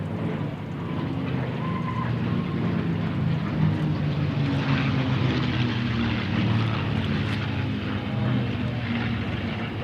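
P-40 propeller fighter aircraft flying at the Duxford air show, a steady loud piston-engine drone with propeller roar sustained throughout.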